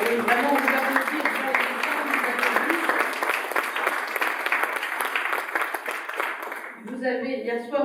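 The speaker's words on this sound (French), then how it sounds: "Vous voyez, vraiment, vous applaudissez." An audience applauds the sponsors of a science prize at a formal award ceremony, steady dense clapping for about seven seconds that stops abruptly, followed by someone speaking.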